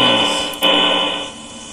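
A loud, steady electronic alarm tone blares in the Five Nights with Froggy FNAF fangame, a continuous buzzing siren with a brief dip partway through, close and alone.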